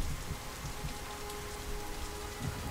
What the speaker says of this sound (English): the game starts in a raining metropolis